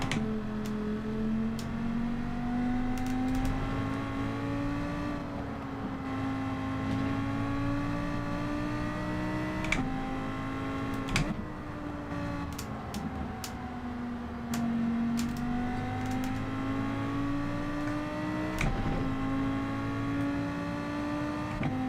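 Lamborghini Group 4 race car in Gran Turismo 7, engine droning steadily throughout with rising and falling pitch through gear changes and occasional short ticks, moderate and continuous with no talking.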